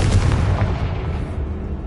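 A Confringo spell explosion in a wizarding school video game: a dense, loud blast with rumbling low-end booms and crackling bursts that fade over two seconds, with no talk.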